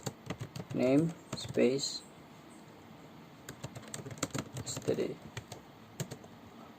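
Computer keyboard clacks in quick bursts as C++ code is typed, while a voice speaks over the keystrokes, close and moderately loud.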